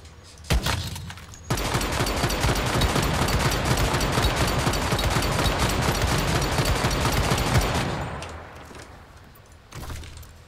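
Sustained rapid gunfire from the DE.50-JAWS in the video game Once Human, a dense loud burst lasting about six seconds before trailing off, with a few clicks around it.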